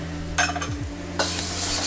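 Ginger, garlic and green onion whites sizzle in a hot wok, a bright hiss with two sharp bursts as they hit and get tossed, over a low background hum, no voices.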